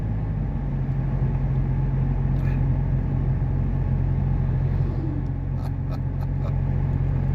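Empty logging truck rolling past on a mountain road, a steady low engine and tyre rumble that stays loud and continuous throughout, with faint clatter near the end.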